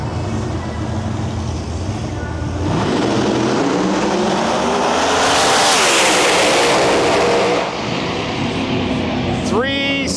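A screw-blown 1969 Camaro pro mod roars down the drag strip in a loud, sustained full-throttle pass, the engine note building and sweeping past before cutting off, with announcer commentary over it.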